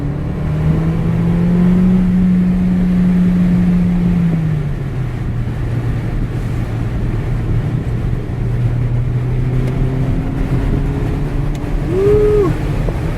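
Engine of a 2014 Mercedes CLA45 AMG on a test drive, a steady droning hum that rises in pitch, drops back, then climbs again near the end, continuous and fairly loud from inside the car.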